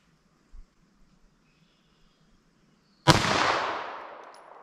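One sharp, loud gunshot from a light .380 ACP pistol, with a long echoing tail after a quiet stretch that holds a faint earlier thud.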